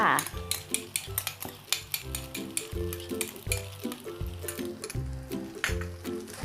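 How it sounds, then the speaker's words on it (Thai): Macaroni with shrimp and ketchup stir-fried in a pan over high heat: steady sizzling with repeated clinks and scrapes of a utensil against the pan, close and busy, with no talking. "เราผัดเลยนะคะ ผัดให้แห้งเลยนะคะ"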